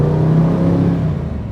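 A restored 1965 Shelby GT350 race car's engine pulls hard under acceleration, a loud, close, rising growl heard from inside that eases off toward the end of the brief burst.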